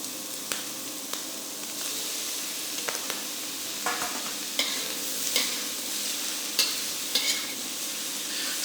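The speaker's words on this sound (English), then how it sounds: "Stir fry this for a minute or two." Shrimp and broccoli stir-fried in a hot wok for a Chinese restaurant-style dish give a loud, steady sizzle and hiss throughout, with occasional scraping and clanking of the spatula stirring close by, and no talking.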